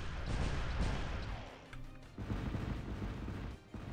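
Badger artillery firing in the strategy game Zero-K, muffled booming shots and crashes layered into a dense low rumble, moderately loud with several overlapping impacts.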